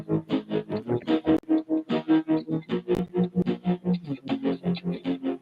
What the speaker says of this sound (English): which was tremolo on the Arduino Giga R1.